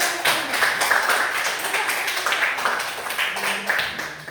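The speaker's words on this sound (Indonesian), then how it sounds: "Tepuk tangan kepada kelompok 1." Students in a classroom applaud a presenting group with steady, overlapping hand claps, a lively ragged patter lasting a few seconds at close range.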